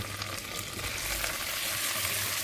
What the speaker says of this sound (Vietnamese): xào sơ cho nó thấm gia vị